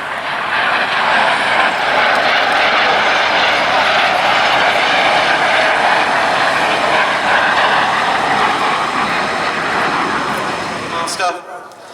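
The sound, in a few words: Jet Provost and Strikemaster jet aircraft flypast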